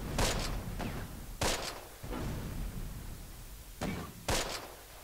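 Bursts of gunfire from the World War II video game Close Combat as a half-track crew is attacked, several sharp cracking volleys in irregular clusters over a low rumbling battle background.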